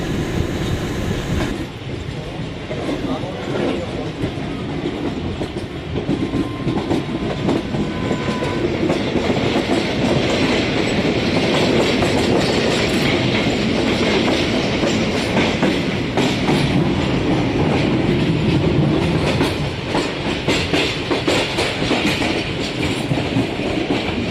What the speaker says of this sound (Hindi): मुल्तान सिटी में एंटर हो रही है कराची एक्सप्रेस।